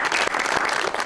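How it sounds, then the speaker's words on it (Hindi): Loud, dense applause from a television studio audience at a talk show with a film cast, continuous and close throughout the short burst. "आपकी भरपूर तालियों में"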